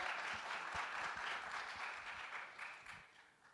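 An audience claps and applauds at a tech business talk, a dense, steady wash of many hands that fades gradually toward the end.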